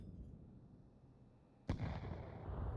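A grenade blows up in the video game Counter-Strike: a sudden sharp blast cuts in after a quiet, low background rumble, followed by a lingering noisy tail.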